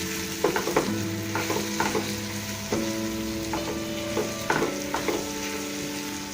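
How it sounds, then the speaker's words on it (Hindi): Raw mango pickle with turmeric and spices being stirred in a pan: scraping spoon strokes recur every second or so over a steady background sizzle, close and moderately loud, with no one speaking. "इसको अब हम मिक्स करते"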